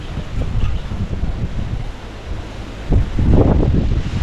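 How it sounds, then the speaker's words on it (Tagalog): Strong gusty wind beside a fishpond during fence installation, buffeting the microphone in uneven surges that swell louder near the end, with no voices over it. "Lakas ng hangin ha."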